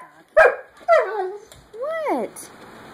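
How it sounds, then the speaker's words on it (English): A dog gives a few short, close barks and yips, followed by a drawn-out whining howl, with people talking around it. "Where's a nice doggy?"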